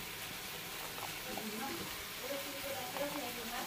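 Onions frying in hot mustard oil in a home kitchen give a steady, soft sizzle with faint crackles, close and continuous.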